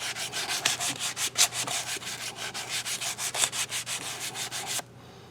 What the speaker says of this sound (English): I can use to clean up the inside of this, and that makes this go really fast